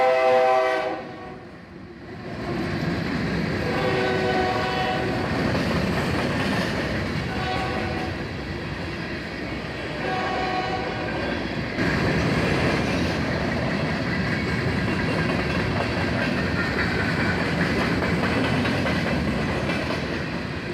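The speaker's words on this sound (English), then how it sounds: "Here we have a northbound Union Pacific-powered empty coal train hustling along" A long, empty Union Pacific coal freight train rolls past northbound with steady rumbling and clattering wheels, a horn sounding near the start before the cars keep rushing by.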